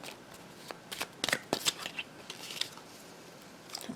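Tarot cards are shuffled by hand in a quiet room, giving a run of soft riffling flutters and crisp card slaps that come in uneven bursts, close and fairly gentle, with no voice over them.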